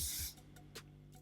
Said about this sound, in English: I'm gonna add a little hairspray